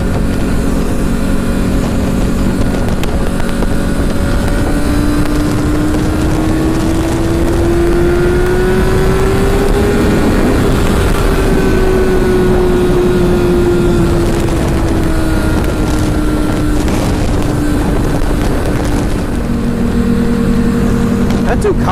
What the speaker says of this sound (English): That Ducati is loud.